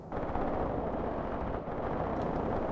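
Artillery strike explosions rumble in the war game Graviteam Tactics Mius Front, a dense, continuous roar of overlapping blasts, loud and steady for nearly three seconds with a slight dip midway, no voices.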